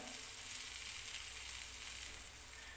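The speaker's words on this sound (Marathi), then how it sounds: "तेलामध्ये सोडून घेणार आहे मी हा दुसरा वडासुद्धा" Medu vada, an urad dal fritter, frying in hot oil over medium heat, a steady soft sizzle and crackle that stays even and fairly quiet throughout, with no voices.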